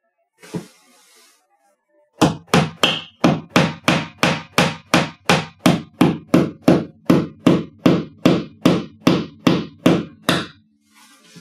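A hammer drives a nail into a wooden wall stud behind drywall, a rapid, even series of about twenty firm, close knocks that thud solidly, preceded by a brief faint tap.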